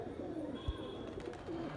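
Pigeon cooing at a rooftop pigeon-keeping spot in Lucknow, a low soft coo rising faintly out of steady background noise, with a brief thump midway and no clear speech over it.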